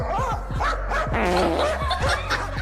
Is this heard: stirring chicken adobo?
no